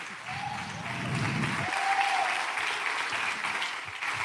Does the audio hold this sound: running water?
no